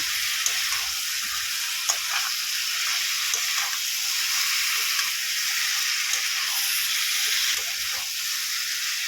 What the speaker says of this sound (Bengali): ভালো করে এটাকে কষিয়ে নেব।